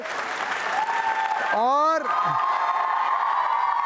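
An audience at a Holi-themed university quiz show breaks into loud applause and cheering, which runs throughout, while a voice sings a rising, wavering tone over it midway.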